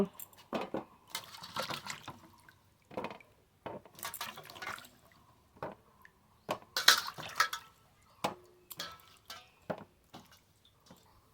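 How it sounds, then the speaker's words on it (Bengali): Mangoes from a home tree being washed by hand in water before pickling, with intermittent splashes, drips and sloshes in bursts, fairly close and moderately loud, with brief pauses between handfuls. "আমগুলো ভালো করে ধুয়ে নেব"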